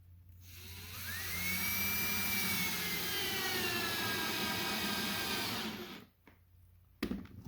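A power drill drives a screw into a folding RV step, its motor whining loudly and steadily for about five seconds, then stopping, followed by a couple of brief clunks.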